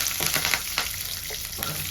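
Dry red chilies and curry leaves crackling in hot oil, a loud, busy sizzle with quick spits and pops over a short stretch.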